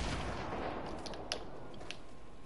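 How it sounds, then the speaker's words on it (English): Grenade blasts and gunfire in a Fortnite match on PS4, heard as a dense, continuous wash of combat noise with a few sharper pops, steady and fairly distant with no voices. "Oh no, we're getting grenaded."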